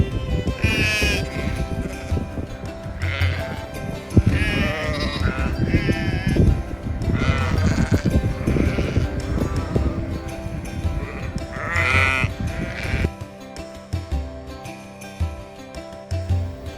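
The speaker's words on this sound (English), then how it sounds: "So many sheep, just chilling on the hills, living their best life." Sheep bleat repeatedly across Irish hills, several wavering calls near and far rising over steady outdoor background noise, with a few crow-like caws mixed in.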